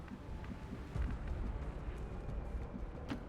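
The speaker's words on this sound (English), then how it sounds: "what is going on with the explosions?" Rumbling explosions and bursts in XCOM 2: War of the Chosen, modded, as stray fire sets things alight; dense low booms roll continuously, with a few sharper pops scattered through and no talk.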